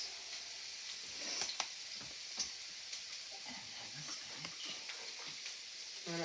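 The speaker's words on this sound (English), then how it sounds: "Add the onions and the spinach. And stir them around with the spatula." Onions and spinach frying in olive oil in a pan, a steady soft sizzle and hiss with occasional light spatula taps and scrapes as they are stirred, close and fairly quiet, with no talk.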